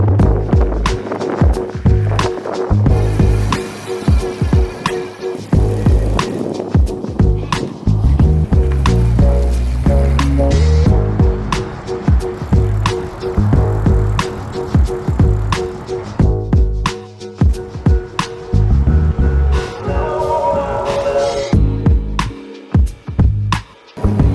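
A Jasion X-Hunter ST step-through electric bike rolls over rough pavement through tight turns, giving a loud, close, rumbling tire rattle punctuated by frequent clunks and bumps.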